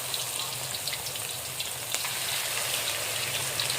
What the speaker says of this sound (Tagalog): naglagay na kami sa mainit na mantika